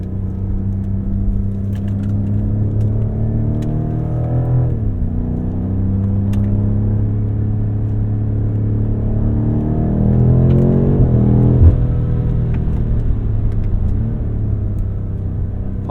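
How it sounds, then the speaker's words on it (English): A 2021 BMW M5 (F90) sports car engine hums and rumbles steadily up close as it accelerates hard, its pitch shifting as it pulls through the gears, with no talking. "how much thrust and how fast this car is"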